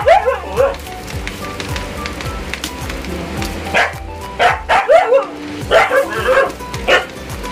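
A household dog barks in repeated yapping bursts, loud and close, with clusters of sharp barks and whimpers over a background hum and some faint rain-like noise.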